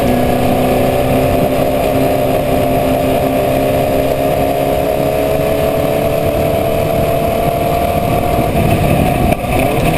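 A Formula Vee race car engine howls at full throttle during a race, a loud steady drone with slowly rising pitch held close for the whole stretch.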